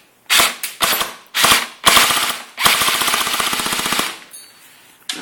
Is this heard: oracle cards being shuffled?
no